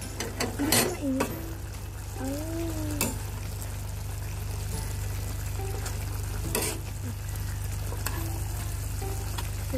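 Bicol Express stirred in a sizzling pan, a steady frying hiss throughout with a few sharp scrapes and clacks of the spoon against the metal, close and fairly loud.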